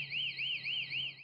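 A home burglar alarm sounds on its own, a steady high electronic warble rising and falling in a regular sweeping cycle, moderately loud and unbroken, with a low constant hum underneath.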